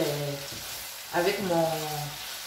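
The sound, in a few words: beef kidneys with onion sizzling in a pan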